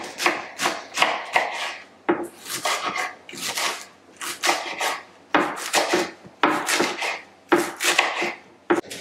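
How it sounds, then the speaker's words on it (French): Endives being chopped into small pieces with a knife on a board, a quick run of sharp, close, fairly loud chops in irregular bursts with short pauses between them, and no talking. "je vais les couper en petits morceaux."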